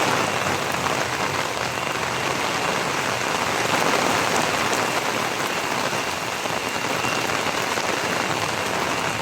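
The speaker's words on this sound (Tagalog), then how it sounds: "Magdamag pong nagulan dito sa amin" Heavy rain from Typhoon Kristine in Camarines Norte pours down hard in a steady, dense roar that stays loud and unbroken throughout, with no voices.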